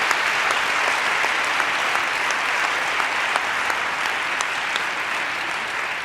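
A large audience at a climate action event gives sustained, even applause, a thick continuous wash of many hands clapping at steady volume throughout.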